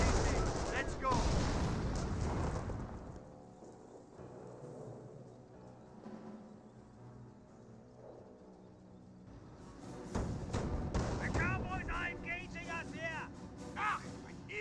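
Rifle fire and grenade blasts from a Company of Heroes 1 battle between US riflemen and Wehrmacht troops, with loud bursts at the start and again near the end and a quieter stretch of scattered shots in between.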